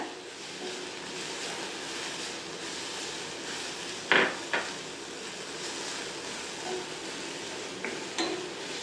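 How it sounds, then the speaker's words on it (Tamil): Mint leaves sauté in a pan for Dindigul mutton biryani: a steady low sizzle runs throughout, broken by a few sharp utensil scrapes and knocks. "இதில் நம்ம புதினா இலைங்க போட்டுக்கணும். போட்டு நல்லா வதக்கி விட்டுருங்க."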